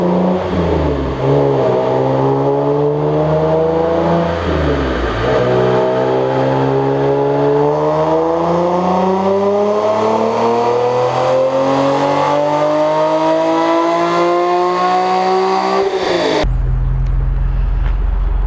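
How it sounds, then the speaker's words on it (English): A 2003 BMW E46 M3 engine revs on a dyno, a loud harmonic wail climbing steadily through the gears for about sixteen seconds before cutting off abruptly to a low idle hum. "This car, I dynoed it last winter, probably about a year ago, and I will input the clip of that right now."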